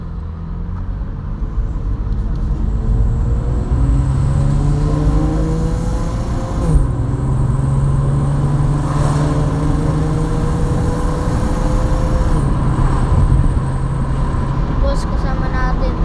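Infiniti G35 on a road test, its engine rumbling steadily and rising in pitch as it speeds up, heard from inside the cabin with a continuous low drone.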